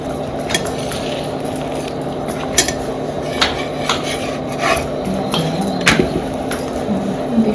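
Metal utensils scrape and clink on a pan while bhakri flatbread is flipped during village home cooking, steady rasping scrapes with sharp clinks scattered through, close and fairly loud, with no talk.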